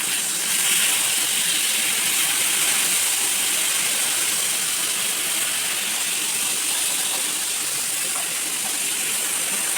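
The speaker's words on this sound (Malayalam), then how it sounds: "അപ്പുറത്ത് നമ്മൾ ആ മീൻ വറുക്കാൻ കൂടെ വെച്ചിട്ടുണ്ട്" Fish frying in a pan gives a loud, steady hissing sizzle that runs unbroken for the whole stretch, close by and with no voices over it.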